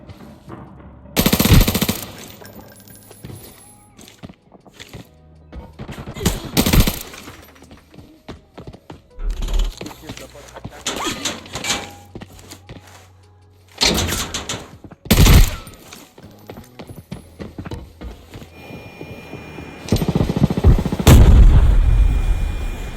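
Bursts of H4 rifle gunfire in the video game Arena Breakout crack out in rapid volleys, loud and sharp, separated by short lulls, with a heavier sustained barrage near the end.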